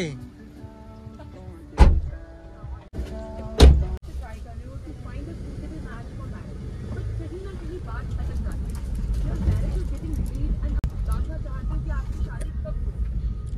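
Two loud thuds of a car door being slammed shut near the start, a few seconds apart, followed by ongoing chatter and general background noise as people talk around the car.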